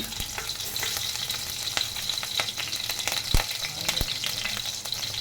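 Green chili pieces frying in hot oil over a lowered flame: a continuous close crackling sizzle dotted with sharp pops and spatula clicks.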